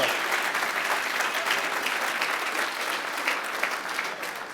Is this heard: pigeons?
no